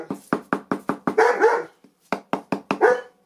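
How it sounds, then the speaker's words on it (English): A dog in a woodcarving shop barks in a quick rapid series of sharp, close barks, breaking into a couple of longer growly yaps, with no talk over it. "Shop inspector guard dog."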